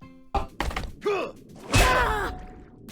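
Nephro, captain of the guard in a video game, lands a back-kick attack with a heavy thunk and thud, accompanied by grunting, groaning vocal sounds and a short burst of clattering impact noise.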